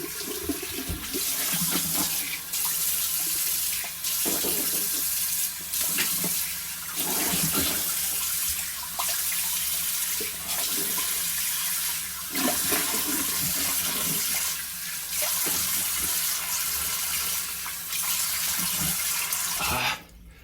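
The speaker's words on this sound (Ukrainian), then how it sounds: "вмиваюсь холодною водою" Cold tap water runs steadily into a sink with splashing as hands scoop it up to wash the face after shaving, interrupted by brief louder splashes.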